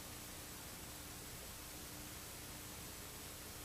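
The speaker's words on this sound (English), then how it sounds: "white noise is very calming." Steady white noise played during a conference presentation, a constant even hiss filling the whole stretch at a fairly low level with no other sounds.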